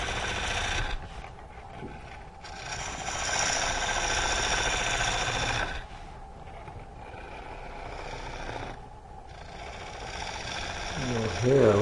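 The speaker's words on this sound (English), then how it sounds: "you'll hear a little bit of like a rattle. It's coming up to a lot of end grain" A lathe gouge chatters and rattles against end grain on a spalted green wood bowl being roughed out, a continuous gritty cutting noise with brief pauses, up close.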